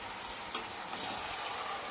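Chicken pyaza mixture sizzling steadily in a frying pan, a dense continuous hiss with a couple of faint knocks as it is stirred.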